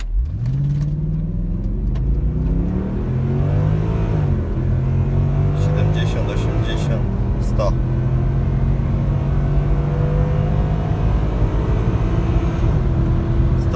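A Mercedes ML 63 AMG, 510 hp, running on LPG, revs once and accelerates hard on a motorway, the engine note rising steadily through the gears, loud and close inside the cabin with someone talking over it.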